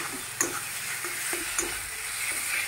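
Katla fish head frying in a pan with spices, a soft continuous sizzle broken by a few sharp stirring scrapes and taps, close by, no voices.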